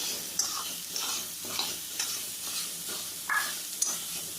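Meal maker soy chunks and a dried red chilli fry in a pan, with steady sizzling broken by regular stirring scrapes every half second or so, close up and with no one talking.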